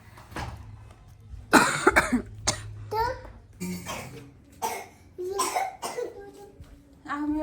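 Several short, harsh coughs come in bursts, close by, mixed with a voice and babbling sounds between them.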